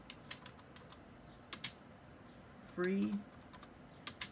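Keystrokes on a computer keyboard, typed in scattered bursts of sharp, fairly close clicks with short pauses, while a voice briefly speaks partway through.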